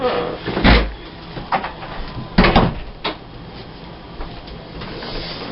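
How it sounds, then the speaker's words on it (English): An indoor door closing at home, heard as a few muffled knocks and thumps of varying strength over a steady low background hum. "I'm going to close the door."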